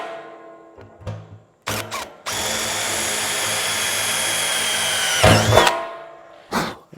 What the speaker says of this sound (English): let's go ahead and drill the remaining holes. Again, using this 13/64 bit